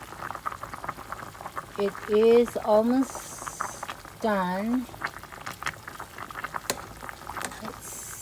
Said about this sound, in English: this is 30 minutes of our chicken boiling